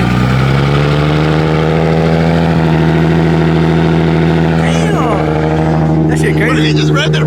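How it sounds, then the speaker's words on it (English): A Nissan 350Z engine idles loud and close with a steady droning hum, then its turbo spools up with rising whooshing tones under chatter from people nearby. "You can hear the turbo spool, look."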